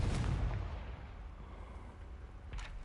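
Casting the Confringo spell in Hogwarts Legacy sets off a deep, booming blast that rumbles away, followed near the end by a second sharp burst.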